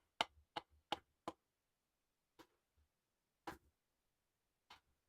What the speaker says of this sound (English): that is the sound of my stick hitting the what are they called? The hi-hat.